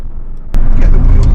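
A 2018 Mercedes-AMG GLC63 S with a V8 BiTurbo engine, using paddle shifters: a quiet idle hum, then a sudden loud burst as the engine revs hard and keeps roaring close by.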